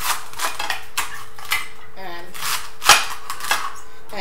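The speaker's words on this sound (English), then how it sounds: "I tried just chopping it up like I'm doing now" Hand chopping of food on a kitchen cutting board: a series of sharp knife taps at an uneven pace, close by and fairly loud, with one harder strike near the end and no talking.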